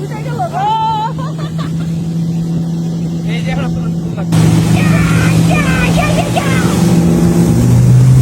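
A motorboat engine drones steadily, growing louder midway, while people talk and shout over it.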